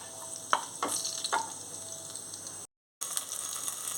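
Cumin, cloves, cinnamon and cardamom frying in hot oil: a bright steady sizzle with a few quick spatula clicks near the start, close, then a sudden brief cut before the sizzle resumes; no talk.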